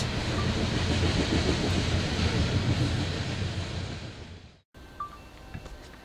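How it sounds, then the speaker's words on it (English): A passing train rumbles loudly and steadily for about four and a half seconds, then cuts off abruptly, leaving a quieter background with faint tones. "And now I'm going to wait till that train goes by."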